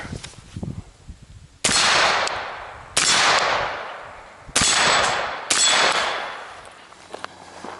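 Four sharp, loud shots from a suppressed 11.5-inch rifle fired at a 25-yard target, spaced about a second apart, each a hard crack with a long ringing decay and no talking.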